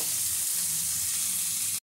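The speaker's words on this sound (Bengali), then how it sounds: "তেলের মধ্যে কুচিয়ে নেওয়া পেঁয়াজটা দিয়ে দিচ্ছি" Chopped onions, two large ones, frying in hot oil for mushroom dal: a steady, close, broadband sizzle that holds evenly without talk, then stops abruptly.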